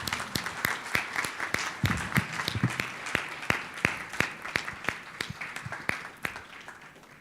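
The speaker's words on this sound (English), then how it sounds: "And we need some applause." A small audience claps at an award ceremony for winners called on stage at a Western Balkans ministerial conference on public administration reform. The claps are distinct and fairly sparse, steady and moderately close, with no talk over them.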